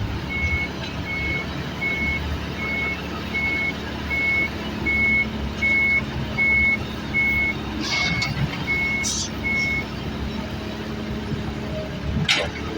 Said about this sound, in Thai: กำลังจะถอยใส่ดินอยู่นะครับ